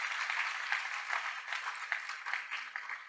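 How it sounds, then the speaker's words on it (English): Audience applause at a forum on poverty and inequality in Singapore, a steady patter of many hands clapping at moderate distance, fairly soft and continuous. "Let's give him a round of applause."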